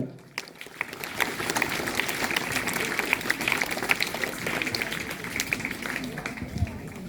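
Students at a children's poetry gathering applaud their teachers, a sustained burst of crowd clapping that rises after a moment and holds steady, with a room of voices blended underneath.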